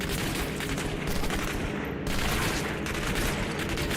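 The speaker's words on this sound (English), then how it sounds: "Shooting at me with perfect accuracy from like a pixel away" Enemy gunfire in the video game Turning Point: Fall of Liberty pours out as a dense, continuous fusillade of rapid shots, loud and unbroken for several seconds.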